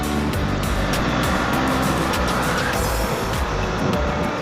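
A motorbike with a quick shifter accelerates along a road near roundabouts, its engine and wind noise a loud, continuous roar broken by brief pulses as gears change rapidly.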